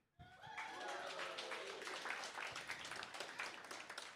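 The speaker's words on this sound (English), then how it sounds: "as you can hear and probably see, we have a very, very interesting and enthusiastic crowd today" Enthusiastic crowd applauding at a WarsawJS JavaScript meetup, a steady dense wash of clapping that starts abruptly and holds loud throughout, with some whooping tones near the start.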